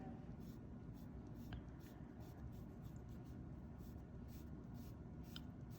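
A pencil scratches curved wood-grain lines onto paper in short, repeated strokes, faint and close, with soft rhythmic scraping under a low background hum.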